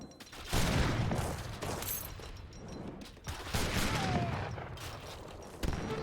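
Musket volleys crackle through a battle in Age of Empires 3 against Streltsy, with Gatling guns and falconets in the fight: dense, continuous bursts of gunfire and booms, loud and sustained throughout.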